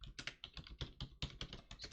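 Rapid typing on a computer keyboard sitting right beside the microphone: a dense, irregular run of sharp, close clicks and key thumps with no voices.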